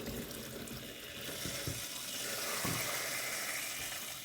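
Water pours steadily into a pot, a soft continuous splashing stream with the pitch shifting slightly as it fills, quiet and close.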